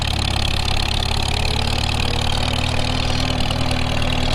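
A tractor with an M&W 9-speed transmission runs in fourth gear on the high side, its engine giving a loud, steady, even drone close by throughout, with no talking.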